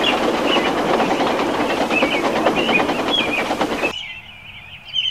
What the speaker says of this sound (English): he watches the trains rushing through the new tunnel.